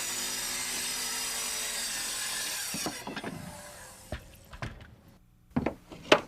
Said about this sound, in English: here's a riser being cut